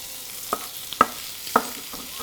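Shrimp for shrimp scampi frying in a pan, a soft, quiet sizzle broken by a few sharp pops and clicks spaced about half a second apart.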